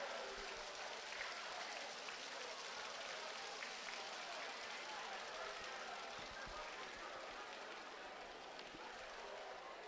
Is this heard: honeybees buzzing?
no